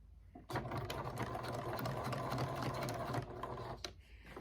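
A sewing machine stitching a drawstring tote bag with a clear vinyl panel, a close rapid mechanical whirr starting abruptly and running steadily for about three seconds, then slowing to a stop with a few clicks.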